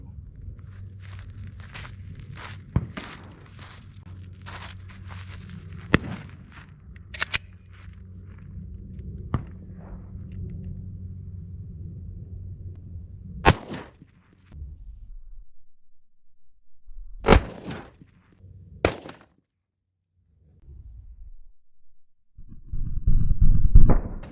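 A Glock 32 pistol in .357 SIG fires into ballistic gel from 15 feet. A few sharp, loud, separate cracks ring out around a stretch of quiet, after a low rumble of handling and footsteps.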